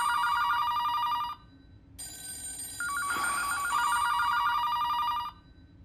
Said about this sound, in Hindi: ये सारे फोन क्यों बज रहे हैं भाई